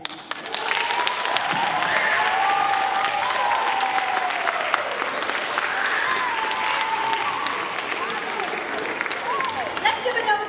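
Audience at a Black History Museum stage event applauds after a presentation, a loud, sustained wash of clapping with some cheering voices and a crowd murmur underneath.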